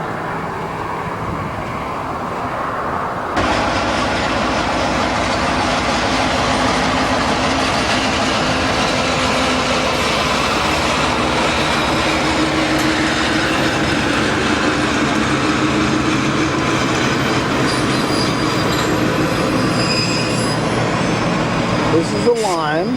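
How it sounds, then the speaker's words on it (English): A train rolls past on the line, steady rumbling and clattering swelling up loud after a quiet start and continuing close by for most of the stretch, with voices talking over it. "There's the train."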